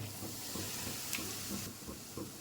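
Mustard seeds and garlic frying in hot oil for tomato pepper rasam give a steady, close hissing sizzle with small scattered pops throughout.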